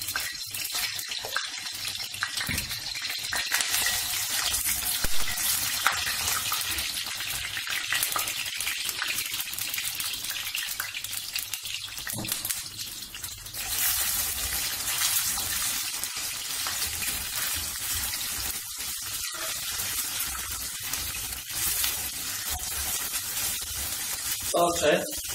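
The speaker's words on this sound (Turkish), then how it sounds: "Salçayı güzelce kavuruyoruz yağla beraber." Tomato paste frying in oil in a pan, a steady sizzle with watery hiss and spatter that runs throughout, with faint kitchen noise underneath.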